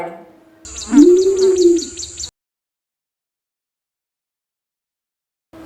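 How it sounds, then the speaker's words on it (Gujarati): An owl gives one hooting call lasting about a second and a half, close and clear, followed by silence. "ઘુવડ"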